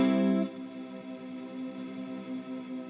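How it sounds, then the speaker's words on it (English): Electric guitar run through a Line 6 Helix particle verb reverb: a loud chord hits, then fades into a long, shimmering, swelling wash of sustained reverb that lingers alone. "this is just the particle verb"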